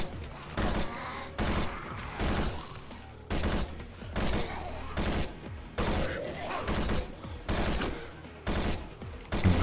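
Bursts of M16 rifle fire in the zombie shooter game Zombie State, loud repeated volleys of several rapid shots each, separated by short pauses and spread across the whole stretch.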